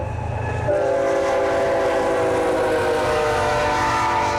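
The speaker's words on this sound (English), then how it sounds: "Around 58 trains per day go past this crossing at Porsche Prairie Avenue in Mendon." A freight train rolls past the Prairie Avenue railroad crossing in Mendon with a loud, sustained horn blast starting near the beginning and holding steady over the heavy rumble of the passing cars.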